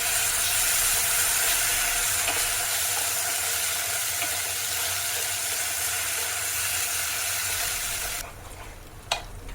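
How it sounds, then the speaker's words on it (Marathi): Cashew-tomato paste and masala fry in oil for hotel-style paneer butter masala, a dense continuous sizzle that cuts off near the end, followed by a short clatter. "आता सगळा मसाला छान तेलामध्ये परतून घ्यायचा आहे म्हणजे भाजून घ्यायचा"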